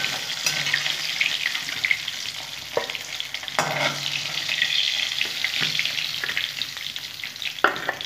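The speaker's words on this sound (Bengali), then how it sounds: "মাছগুলো আমি ছেড়ে দেবো। ভেজে নেবো লাল লাল করে।" Boroli fish fry in well-heated oil in a pan, with a continuous, close sizzle throughout. Occasional scrapes and knocks from a spatula punctuate the frying.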